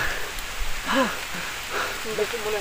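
Heavy rain falls steadily outdoors as a constant broad hiss, with people shouting and talking over it in brief bursts.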